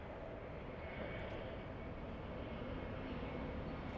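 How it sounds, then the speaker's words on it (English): A JetBlue Airbus A321 departing LAX for JFK gives a faint, distant, steady jet rumble that holds evenly for a few seconds, with no talking over it. "JetBlue 724 flying to JFK."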